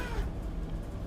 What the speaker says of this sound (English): Can you hear her when she meows?